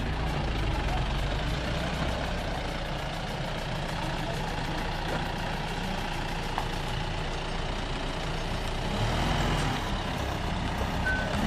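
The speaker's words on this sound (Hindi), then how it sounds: "हमारी गाड़ी बस अब बैक कर रही है वापस जाने के लिए पांगू।" A vehicle backing up on a mountain road to Pangu near Dharchula, its engine rumbling steadily with reversing beeps pulsing regularly throughout, while voices talk faintly in the background.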